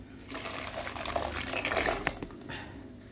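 A thick blended paste of ground onion, turmeric, garlic and ginger slides into a cooking pot with a soft, wet, gushing pour that swells briefly and then tapers off, quiet and close.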